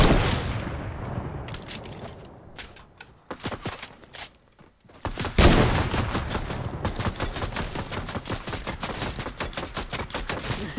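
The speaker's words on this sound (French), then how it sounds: "Il faut juste attendre qu'il vide son chargeur, après c'est bon." Video game gunfire crackles in bursts of rapid shots, loud and close, dropping off briefly near the middle before a heavy resumption of sustained automatic fire, with no speech.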